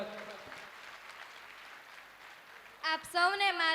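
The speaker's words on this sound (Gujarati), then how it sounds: "તાળીઓ વધાવજો એક વખત" An audience gives a round of applause to welcome someone speaker at a family-themed talk, a soft, distant patter of clapping that gives way near the end to a voice or tonal sound.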